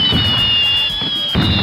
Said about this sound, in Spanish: Esos cohetes son bravos, ¿eh? Sí. Están sonando,